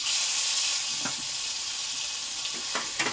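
Green chili and ginger hit hot oil already tempered with nigella seeds, giving a loud, bright sizzle that fades to a steady hiss, with a few spatula clicks near the end.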